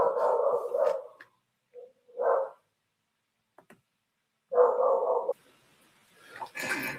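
A dog barks indoors in a few separate bursts, a short run at the start, a single bark partway through and another cluster later, fairly close with quiet gaps between.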